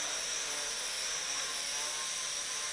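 The motor of a Huaxiang Toys Aviator 8927V toy RC aircraft whines in a steady high-pitched buzz, close and continuous, with slight wavering in pitch as the throttle pulses.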